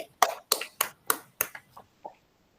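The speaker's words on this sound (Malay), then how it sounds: "jom kita bagi satu tepukan yang gemuruh kepada rakan-rakan kita yang jawab dengan betul" About seven separate hand claps sound in a primary school Malay lesson classroom, crisp but fairly faint, spaced out and tapering off toward the end.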